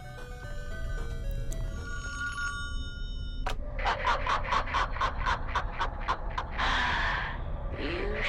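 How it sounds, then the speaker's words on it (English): A telephone rings in the basement of a virtual cabin in the Friday the 13th video game: a tonal ring, then a run of about a dozen rapid, evenly spaced bell pulses close and clear over low ambient hum. "you'll notice a familiar phone ringing in the basement"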